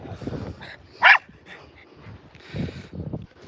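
A dog gives short vocal bursts, yips and grunting barks, while playing with other dogs on a walk in Edinburgh, with one sharp higher yelp in the middle and low rumbly noises around it, fairly close.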